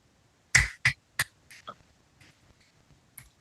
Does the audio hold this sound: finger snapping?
yes